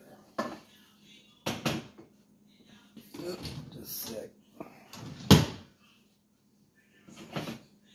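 A Joseph Joseph Scoop Colander clanks and scrapes against a pan of hamburger meat in sporadic bursts, metallic knocks and scraping separated by near-silent pauses.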